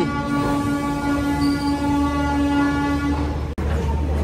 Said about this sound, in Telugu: లోకోమోటివ్ వెళ్తుంది అటు సైడ్.